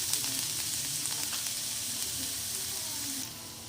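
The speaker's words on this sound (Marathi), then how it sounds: "आणि त्याला छान परतून घेऊया। छान परतून घ्यायचं याला।" Okra and finely chopped onion sautéing in a hot pan for bhindi do pyaza, a steady close sizzle with faint crackles and a slight drop in intensity near the end.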